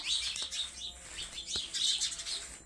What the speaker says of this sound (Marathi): पाखरे चिवचिव करू राहिले